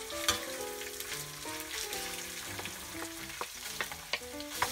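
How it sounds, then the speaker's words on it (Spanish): Requesón cheese frying in oil for chile de requesón, a constant crackling sizzle with scattered sharp pops, backed by faint tonal background music. "aquí voy a agregar el requesón para que se empiece a sofreír"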